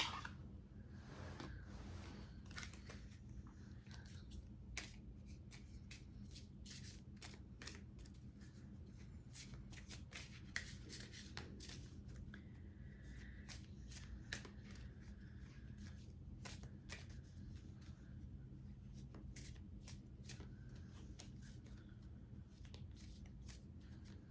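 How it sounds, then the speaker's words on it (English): Starseed Oracle cards are shuffled steadily and quietly for a long stretch, a continuous papery riffling and sliding with small taps, over a low background hum and no talking. "I just feel called to pull some Starseed Oracle cards"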